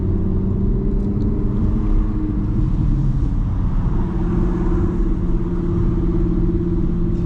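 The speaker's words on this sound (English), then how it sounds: "Car sounds like an animal. It's kind of roaring, like purring, like a leopard." A supercar engine's deep, steady rumble with a low throbbing growl, sustained and close throughout, without any talking.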